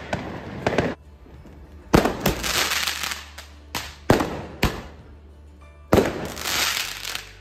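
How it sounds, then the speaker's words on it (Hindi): New flash-type firecrackers go off at a Diwali celebration, a series of sharp crackling bursts in several separate loud volleys with brief quieter gaps between them, close by. "ये कुछ नया फ्लैश का पटाखे हैं"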